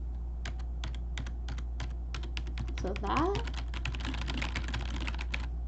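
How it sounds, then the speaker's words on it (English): Epomaker EP84 keyboard switches being typed on in rapid, irregular clicky bursts, close and clear, with a person briefly speaking over the keystrokes. "even though it's advertised as a quiet keyboard compared to this mechanical keyboard"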